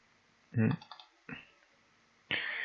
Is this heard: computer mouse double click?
yes